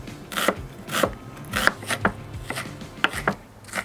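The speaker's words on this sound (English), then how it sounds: "We're gonna slice the onion. I like the onion thin," A knife slices an onion thinly on a cutting board for rigatoni alla norcina: a close, uneven series of crisp cuts and taps, roughly two per second, each with a soft scrape on the board, and no talking.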